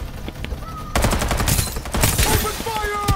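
Rapid automatic gunfire and bursts of shots from the battle royale game Farlight 84, loud and dense after a quiet opening second, with overlapping shots and faint voices underneath.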